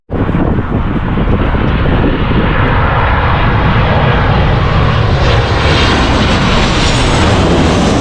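Airliner engine roar at East Midlands Airport, following a TUI jet landing from Malaga; loud, steady broadband rumble filling the whole stretch, rising slightly in pitch toward the end, with no voices.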